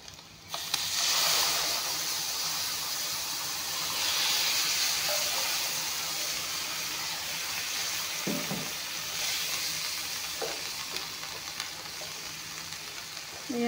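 Boiled chickpeas dropped into a frying pan of sizzling egg and oil, a loud continuous hiss and crackle with steam and occasional stirring knocks, no voices.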